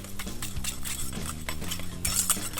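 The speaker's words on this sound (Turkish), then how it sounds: "Şöyle az miktarda tuzu ekledim ve dikkatli bir şekilde çırpıyorum." A whisk beats salad ingredients with a little added salt in a bowl, producing a quick, close clatter and steady scraping of metal against the bowl.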